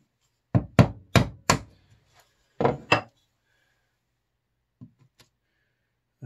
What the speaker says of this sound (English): just a matter of chiseling away the corners